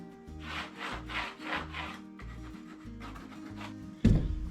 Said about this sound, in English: we'll cut it with the jigsaw